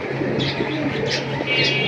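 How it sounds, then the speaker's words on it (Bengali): A Sapchila pigeon coos softly amid a bird collection, with faint chirps from other birds, a low steady hum and background room noise. "সাপছিলা কবুতর"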